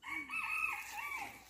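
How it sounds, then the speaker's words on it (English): A small rooster crows at a garden aviary, a single faint, distant cock-a-doodle-doo with wavering rising and falling notes, heard alone. "They've got a little rooster with them."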